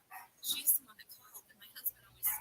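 A pet dog barks in a few short, sharp bursts, close by and mixed in with someone speaking over it.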